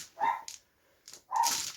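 Dog giving two short barks about a second apart, sharp and moderately close in an otherwise quiet indoor room, no talking over them.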